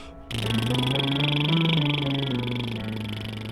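Lips trill while a voice glides through a sequence of pitches in a vocal warm-up, a buzzing sung tone held steadily and close.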